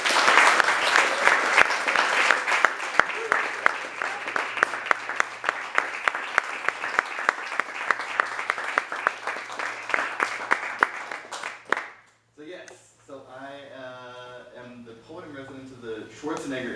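Audience applause at an open mic night welcoming a poet to the stage, a dense, steady wash of clapping for about twelve seconds that cuts off abruptly, followed by a single voice speaking.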